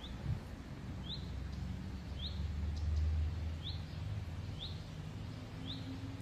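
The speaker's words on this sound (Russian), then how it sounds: "Слышите, поют птицы" Birds call outdoors amid wind and rustling leaves, a short rising chirp repeating about once a second over a soft steady background rumble, faint and distant.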